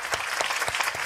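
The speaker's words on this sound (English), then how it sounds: "Applause track." A canned applause track, a dense burst of many clapping hands, plays steadily with slight rhythmic swells throughout and no voices on top.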